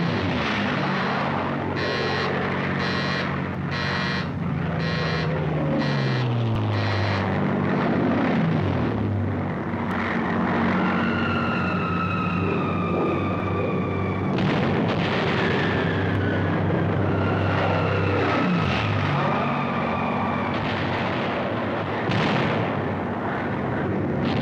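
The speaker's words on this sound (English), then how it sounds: "Suddenly, overhead appear the carrier-based planes of the United States Pacific Fleet." Carrier-based US Navy planes of the Pacific War fly overhead: loud roaring engines with rising and falling whines as aircraft dive and pass, mixed with dense battle noise and bursts of fire, continuous throughout.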